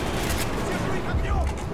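AK rifle fire in Call of Duty Black Ops, a dense, continuous clatter of shots and booms under a noisy game mix with no clear separate bursts.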